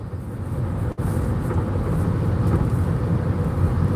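Car cruising along a road during a driving lesson, a steady low rumble of engine and road noise heard from inside the cabin, broken by one brief dip near the start.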